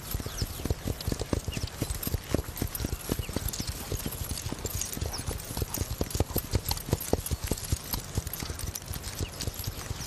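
Horse hooves clip-clopping in a steady, brisk rhythm, one or more horses moving close by on hard ground, with no talk over it.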